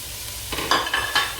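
Chopped cabbage and mixed vegetables being stir-fried in a pan for Chinese rice: a quiet bed of sizzle, then several quick scraping stirs in an uneven rhythm, close and fairly loud.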